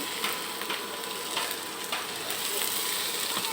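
Radish bhaji frying in ghee in a pan, a continuous bright hiss with scattered sharp crackles and scraping clicks from stirring, steady and close throughout.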